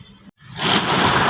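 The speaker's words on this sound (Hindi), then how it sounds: "ये देखो इतनी तेज़ बारिश।" Heavy rain pours during a traffic jam beneath an under-construction metro station. After a brief dropout it becomes a loud, steady, broadband hiss with no speech.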